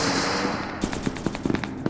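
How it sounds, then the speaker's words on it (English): Gunshots in the video game SCP: Secret Laboratory, a quick series of sharp cracks going off at an irregular pace after a brief hiss, with no talk. "No, those shots came from over there."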